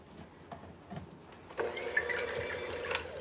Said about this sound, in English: This is my KitchenAid mixer right here. My KitchenAid handheld mixer.